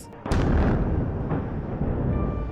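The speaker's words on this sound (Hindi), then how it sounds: "बम की आवाज" A bomb blast during an Israeli strike on Lebanon: a sharp broadband boom hits at the start, then a loud rumbling roar lingers and rolls on for the rest of the clip.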